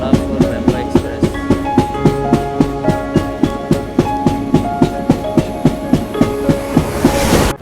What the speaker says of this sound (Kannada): ಟ್ರ್ಯಾಕ್ ಸೌಂಡ್ ಕೇಳ್ರಿ ಹೆಂಗೈತೆ